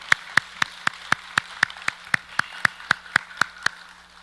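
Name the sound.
church congregation applauding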